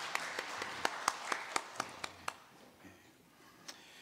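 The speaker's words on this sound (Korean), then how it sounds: "하나님께 영광의 박수 올리겠습니다." A congregation at a Korean Sunday morning Lent church service claps in a series of evenly spaced, fairly faint hand claps that thin out and fade toward the end.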